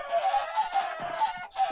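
Chickens clucking in Minecraft, a run of short, repeated bird calls close up that pulse in quick succession with brief gaps, with no talking over them.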